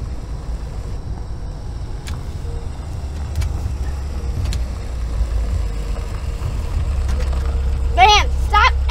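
A van engine runs at a low, steady idle, a faint rumble with scattered clicks and a brief squeaky chirp near the end; no clear talking over it.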